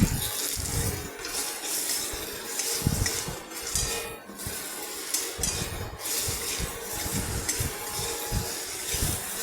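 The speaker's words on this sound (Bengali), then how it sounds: "আম কেটে ধুয়ে দিয়ে দিলাম খোসা ছাড়িয়ে" Peeled, cut mango pieces being washed under running water, with a steady close rush of tap water over rustling fruit and occasional clinks of a bowl, continuous throughout and no talk.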